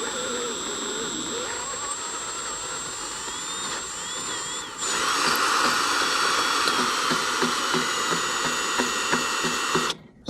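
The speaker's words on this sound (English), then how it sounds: "Step 1 is drill." A power drill whines steadily, then grows louder and harsher halfway through as it bites into a bicycle hub motor's disc brake mount, running continuously before cutting off at the end.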